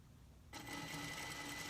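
A sewing machine stitching fabric for a face mask starts after a quiet moment, then runs in a close, steady, fast mechanical whir.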